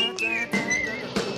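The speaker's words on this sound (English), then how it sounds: "Come on, everybody, and whistle this tune right now" People whistling a tune in a playful sing-along song, a bright wavering melodic whistle that rises and falls across a few short phrases, prominent and close, broken by a few brief percussive accents.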